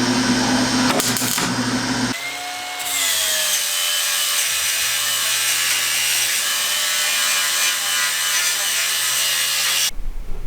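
An angle grinder grinds down fresh MIG welds on the rusted front clip of a Nissan Skyline R32. It starts with a few rough bursts, then holds a loud, steady whine with gritty scraping for about eight seconds and stops abruptly.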